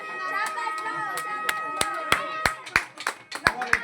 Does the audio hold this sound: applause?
yes